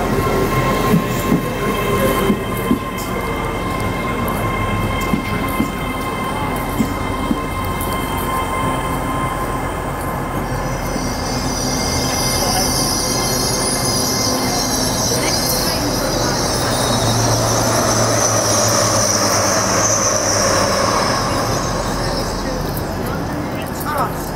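A passenger train of nine coaches, first class at the rear, stands at a station with a steady low rumble and mechanical hum, while voices talk over it throughout.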